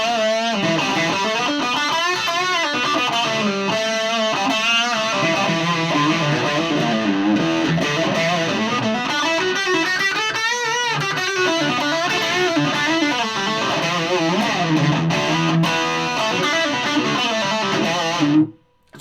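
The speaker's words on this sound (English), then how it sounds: "So you generally get a much better distortion on Marshalls." A heavily distorted electric guitar with a bridge humbucker, played through a Marshall G30R CD amp, plays continuously and loud, with crunchy chords and riffs cutting off abruptly at the end.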